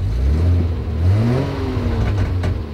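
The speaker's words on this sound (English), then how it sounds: "And it definitely sounds like an Alfa." A vintage Alfa Romeo engine runs close by, revving up and down in smooth rising and falling sweeps over a low, steady idle, loud with no talk.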